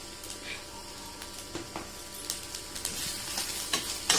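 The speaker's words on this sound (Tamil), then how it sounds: "வரமிளகா, வெங்காயம் வதக்கணும்." Dried red chilies and onions sautéing in a pan, a steady low sizzle with scattered scraping stirs that grow a little busier toward the end, fairly close.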